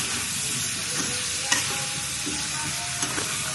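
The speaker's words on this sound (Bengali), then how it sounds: "এখন এটাকে আমি ভালো করে কিছুক্ষণ ভেজে নিব" Pitha batter fries in a pan while being stirred: a loud, continuous close-up sizzle with a few scraping stirs cutting through it, and no voices.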